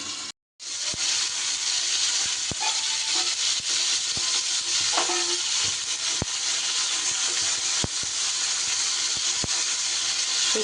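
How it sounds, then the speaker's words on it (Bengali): Pointed gourd pieces hiss and sizzle steadily in hot oil with salt, a broad continuous frying noise broken by sharp scrapes and clicks of stirring, close and alone. "এবার আমি ঢাকা দিয়ে ঢাকা দিয়ে পটলগুলোকে আমি নাড়াচাড়া করে ভেজে নেব।"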